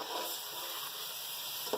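Tomatoes hit hot qeema masala in a pan, giving a soft, steady sizzle with a small clink near the end.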